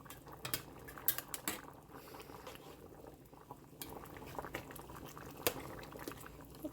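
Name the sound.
linguine noodles boiling in a pan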